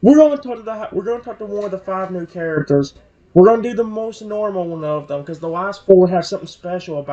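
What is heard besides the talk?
No everyday noises stand out.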